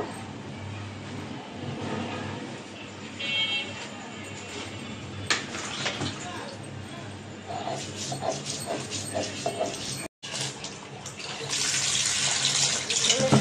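Tap water runs into a sink while a potato is rinsed by hand, a steady splashing stream with brief clattering and handling sounds and a short break near the end before the flow returns louder.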